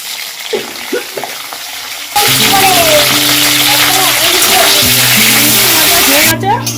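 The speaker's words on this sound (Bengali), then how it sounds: "উচ্ছেটা ভাজবো প্রথমে।" Bitter gourd dropped into hot oil in a wok for sukto, a sudden loud sizzle that keeps crackling steadily over quiet background music, with softer sounds before the vegetables go in.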